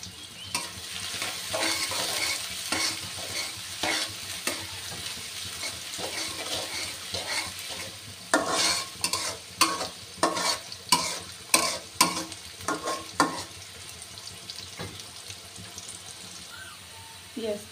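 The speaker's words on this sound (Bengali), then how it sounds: "দিয়ে দেব পেঁয়াজ কুচি 1 কাপ, তেল ছিটবে না তার জন্য আমি একটু লবণ অ্যাড করলাম" Chopped onions frying in salted oil while chicken and pilaf are cooked, giving a steady close sizzle with repeated stirring scrapes and clatters, louder bursts toward the end.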